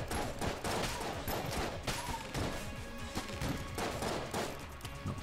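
Rapid bursts of gunfire from Enter the Gungeon crackle in quick succession, a steady stream of sharp shots and impacts at moderate level, with several louder hits standing out.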